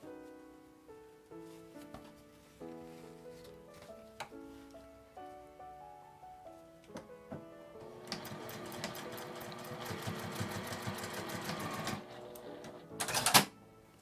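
A sewing machine stitches a small fabric pouch, starting with a few slow separate stitches and then running steadily in a fast whirring burst, fairly quiet and close.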